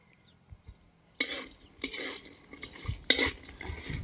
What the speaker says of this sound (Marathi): आता हळकुंड भाजायचं चालल्यात.